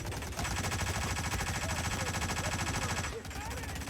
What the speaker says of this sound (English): No, I've definitely fired the machine guns before.